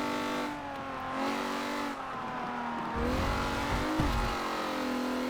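A car engine in Forza Motorsport 7 at the Nurburgring revs through rising and falling gear changes, the steady engine tone broken by short bursts of tire squeal as it corners, loud and continuous with no voice.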